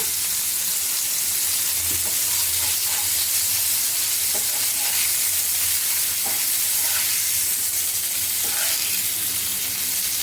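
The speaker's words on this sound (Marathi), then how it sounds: "आता दुसऱ्या साईडने सुद्धा आपण असे शिजवून घ्यायचे आहेत तळून घ्यायचे आहेत" Bombay duck fish shallow-fries in oil, a loud, dense and continuous sizzle with occasional small pops and spatters, close up, with no voices.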